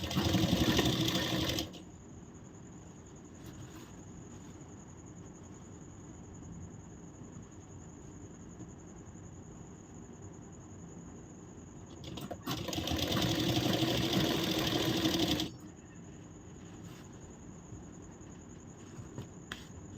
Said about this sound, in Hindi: यहाँ से हम इसमें सिलाई सीधे साइड लगाएंगे पहले